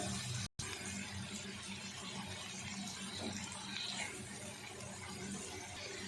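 Water poured into a pan that held tomatoes while cooking shakshuka, a steady, fairly faint splashing flow lasting several seconds with no talk.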